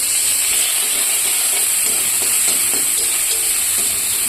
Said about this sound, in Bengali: তো এখন পেঁয়াজগুলো দিয়ে দেবো।